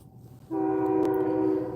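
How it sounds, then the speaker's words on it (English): A train passing in the distance near a battlefield, heard as a steady sustained horn-like tone that starts abruptly and holds over a low rumble, fairly loud and with no voices. "There's a train going by down there."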